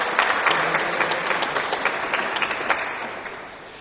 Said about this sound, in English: I usually elicit an applause from the audience for the guest speaker